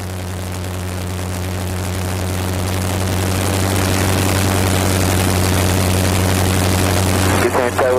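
A Cessna's propeller engine drones loud and steady, its pitch and power gradually building as it rolls into takeoff, heard from close in the cabin with a brief radio-like voice near the end.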